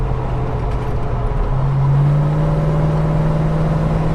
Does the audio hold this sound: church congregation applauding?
no